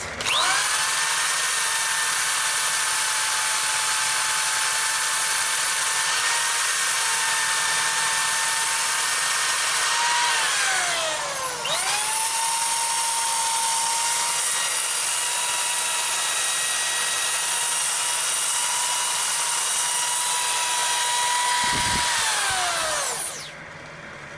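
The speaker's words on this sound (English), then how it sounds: "If you got reverse on your lathe, continue it and do it in reverse with the same grit." A wooden bowl spins on a lathe under sandpaper, giving a loud, steady whirring hum with a brief dip in pitch midway as the lathe slows and restarts, likely in reverse, then a fade as it winds down near the end.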